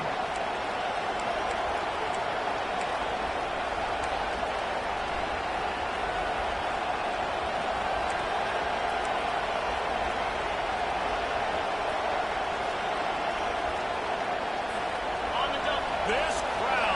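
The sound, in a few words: loud stadium crowd cheering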